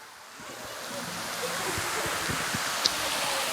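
Steady roar of rushing water from a waterfall at Ash Cave, Ohio, broad and continuous, with faint rustling and one brief sharp click near the end.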